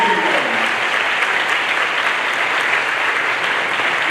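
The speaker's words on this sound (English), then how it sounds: "Can I have a round of applause for you?" Loud, steady applause from a school audience greeting pre-K and kindergarten teachers at a new parent night, sustained clapping filling the whole stretch without pause.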